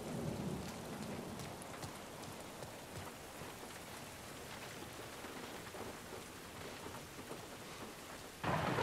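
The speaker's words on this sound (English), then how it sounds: "I like how they've done the storm in this game, like with these stormy clouds and" Video game rain and thunderstorm in The Last of Us Part 1: steady heavy rain pours down with low rumbles of thunder rolling through, ending in a louder burst of rain or crash.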